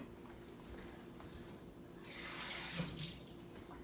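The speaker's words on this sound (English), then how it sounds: "Rinsing this out here." Water from a tap rinses a small part from a Gaggia Classic espresso machine, a low, quiet hum first, then a broad hiss of running water that starts abruptly about halfway through and continues steadily, close by and with no voices.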